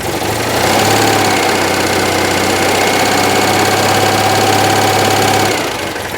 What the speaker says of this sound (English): There's still a clatter in the middle, kind of right where the camshaft is.